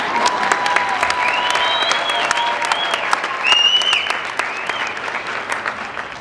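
An audience seated at a winter high school graduation ceremony claps in sustained, dense applause, loud and continuous for several seconds, with a few whistles cutting through.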